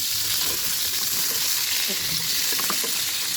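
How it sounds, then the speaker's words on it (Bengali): Chicken pieces fry in a pan, giving a steady broadband sizzle with faint stirring clicks throughout; no one speaks. "মুরগিগুলো ভাজা হয়ে গেছে"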